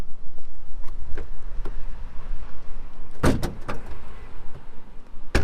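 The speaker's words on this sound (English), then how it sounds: "Let me pop the hood." Hood release and latch on a 2019 BMW 330i: a few sharp clunks and pops close by, a cluster of bright thuds near the middle over a steady low background hum.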